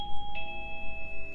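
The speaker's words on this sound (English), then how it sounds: "And that's my doorbell right there." A doorbell rings in the home, a clear, sustained electronic chime tone held steadily under faint background rumble, with no voices.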